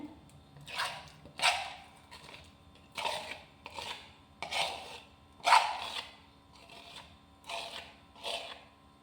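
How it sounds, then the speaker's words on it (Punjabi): Five-day-old cream being scooped out of a container by hand, a series of about nine wet scraping, squishy strokes at a steady rhythm, close and clear with no talking. "ਆਪਾਂ ਹੁਣ ਇਹਦੇ ਵਿੱਚ ਸਾਰੀ ਹੀ ਮਲਾਈ ਕੱਢ ਲੈਂਦੇ ਆ"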